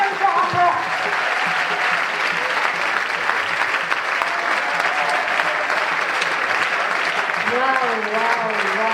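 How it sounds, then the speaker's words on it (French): Cheering and applause for a choir at a Friday church gathering in Foundiougne fill the hall with loud, dense clapping. Voices shout, whoop and sing over it, and bursts of excited calling rise near the end. "accompagnez-les par des acclamations, s'il vous plaît."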